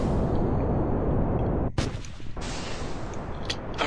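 Solid rocket boosters firing during a launch in the video game Kerbal Space Program: a loud, steady roaring rumble with a sharp break near the middle before the thrust noise resumes, no talking.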